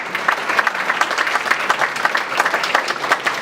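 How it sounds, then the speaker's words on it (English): A round of applause from a lunchtime audience for the man who paid for the meal, steady clapping from many hands throughout, fairly close and even. "you might want to give him a round of applause."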